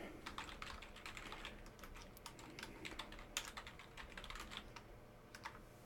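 Computer keyboard typing in a steady run of quick, light clicks with irregular bursts, fairly close and clear, with no speech over it.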